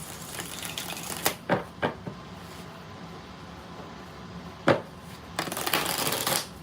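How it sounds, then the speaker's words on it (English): Tarot cards being shuffled in several quick riffling bursts, close and fairly loud, separated by short pauses, with a longer shuffle at the end. "2 more shuffles for the hell of it."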